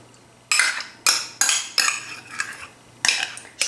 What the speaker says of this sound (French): Et je rajoute également de la crème fraîche épaisse.